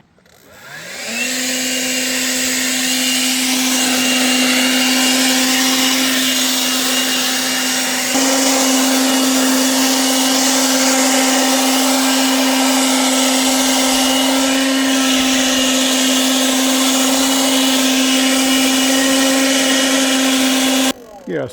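A Borsstyne cordless leaf blower runs steadily outdoors, clearing cut dead grass off the edge of a driveway, with a loud, constant motor whine and rushing air that holds for about twenty seconds before cutting off.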